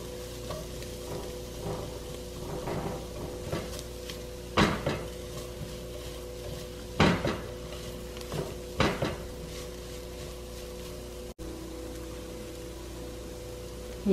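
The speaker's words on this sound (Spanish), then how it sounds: "Y ya que pusimos el ajo" Garlic browns in a pot for gnocchi and chicken soup, a steady low sizzle with scraping stirs and several sharp clanks of a utensil against the pot, close and without talk.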